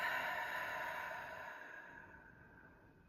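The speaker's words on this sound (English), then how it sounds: "and exhale through the mouth." A long, slow exhale through the mouth during a guided compassion breathing practice, a soft airy breath close to the listener that fades gradually over about three seconds.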